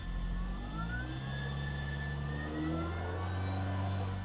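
A Mini Cooper S idling engine rises in pitch as it revs up during a charging test and slowly falls back, a low steady rumble close by with no talking.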